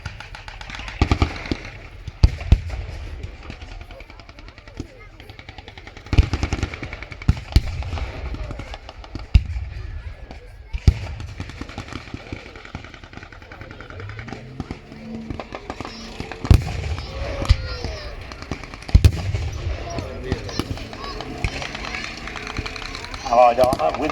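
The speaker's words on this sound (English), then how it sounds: "Allied armour with artillery support bombarding the German positions, causing the Germans to fall back rapidly." Gunfire and artillery blasts at a World War II battle reenactment show boom and crack in irregular bursts, loud and distant across an open field, while an announcer talks over them throughout.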